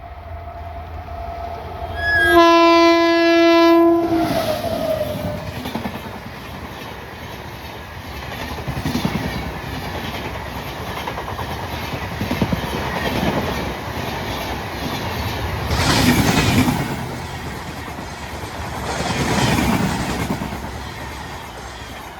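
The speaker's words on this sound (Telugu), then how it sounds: "Double 2152 Kazipet Pune weekly super fast express." The Kazipet–Pune weekly superfast express passes Kottapally station at speed, opening with a loud horn blast and then a sustained roaring rumble with rhythmic clattering of wheels over the rails.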